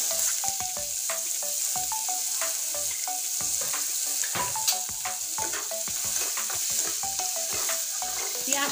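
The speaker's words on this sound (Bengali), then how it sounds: "এবার এই তেলের ভিতরে দিয়ে দেব পেঁয়াজ কুচি।" Chopped onion sizzles steadily in hot oil in a pan, with repeated scraping strokes of a spatula stirring it, a close, continuous frying hiss with no voices.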